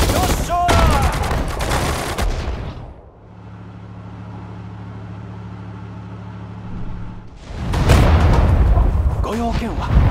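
Dense gunfire and booming explosions from a World War II battle in the strategy game Sudden Strike 4, set at Okinawa in the Pacific War, loud and continuous at the start and end with a quieter low rumbling lull between.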